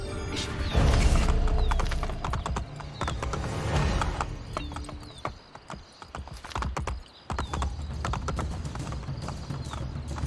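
Horse hooves clip-clop at a gallop in Assassin's Creed Brotherhood, steady and fairly loud near the listener, with an occasional whinny and game sounds mixed in.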